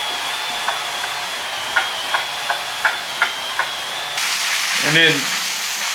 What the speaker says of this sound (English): See the steam coming up from the floor, at least I can.